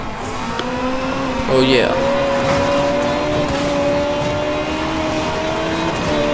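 A car engine drones steadily in the street-racing video game Need for Speed Most Wanted, with a rising whine and brief tire squeal as it pulls away, while someone speaks briefly over it.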